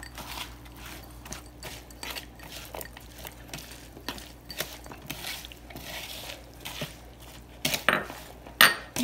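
Lomi salmon with green onions and Hawaiian salt being mixed by hand in a bowl: soft, steady wet squishing and light tapping against the bowl, with occasional sharper clinks near the end.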